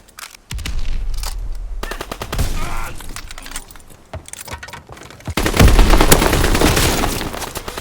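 Heavy automatic gunfire rattles in Call of Duty WW2 Team Deathmatch on the USS Texas map, with loud bursts and single shots coming close and far, swelling into a dense volley near the end.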